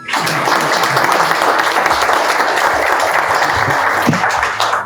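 Sustained applause from an audience welcomes researchers at a book presentation, steady and dense throughout, fading slightly at the end.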